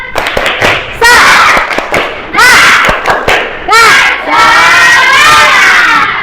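Classroom of schoolchildren performing a spirit clap chant, with loud rhythmic shouted bursts of group voices punctuated by sharp claps, repeated in waves and building to a sustained crowd yell at the end.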